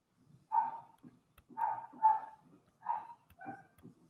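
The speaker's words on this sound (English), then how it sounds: "There's a dog barking somewhere." A dog barks in a series of short, yelping woofs, several in close succession, somewhat distant and moderately quiet with no talking over them.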